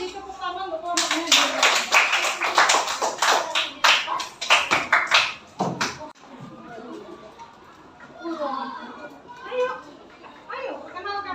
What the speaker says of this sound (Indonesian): kalau sudah beri tepuk tangan untuk kelompoknya